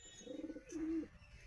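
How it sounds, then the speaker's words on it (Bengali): A pigeon in a breeding loft, sitting on eggs, gives a soft, close coo: a short warbling burst followed by a longer steady note, faint and alone. "পায়রা তাওয়া দিচ্ছে।"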